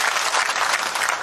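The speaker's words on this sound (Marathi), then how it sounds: "लई सगळे टाळ्या वाजली" Dense, steady crowd applause at a political rally in Beed, loud and close, with continuous clapping and no talk over it.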